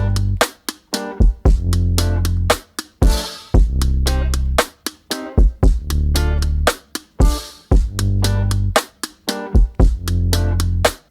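Electronic music track with sidechain compression, a loud, steady kick pulse repeatedly ducking the sustained bass so the low end pumps rhythmically around each beat, with no voices.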